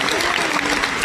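Dense applause from a concert crowd at a show in Verona, loud and continuous throughout without a break.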